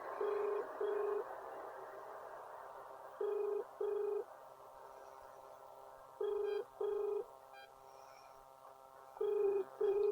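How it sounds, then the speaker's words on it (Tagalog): A phone call rings unanswered: paired ringback tones repeat in a regular cadence about every three seconds, faint and clear over a quiet line hiss. "Meron na tayong tinatawagang number. Ayaw sumagot."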